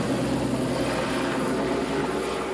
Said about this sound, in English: now the newest excursion, helicopter rides